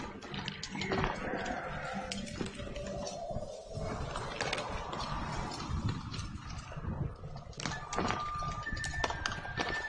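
Horse hooves clip-clop in the video game Witcher III as the horse gets stuck, a busy steady clatter mixed with game sounds and a talking voice.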